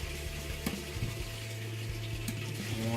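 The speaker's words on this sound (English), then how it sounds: "You hear the warm water kicking in, and now you're just going straight hot." A Kenmore washing machine tub fills with warm, then hot water, heard as a steady rushing flow with a low mechanical hum and a few faint knocks underneath.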